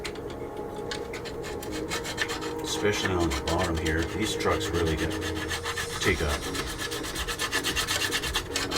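Steady rasping scrape of a tool taking paint off a 1/20 scale plastic model Toyota 4x4 pickup, continuous and close, with someone talking over it.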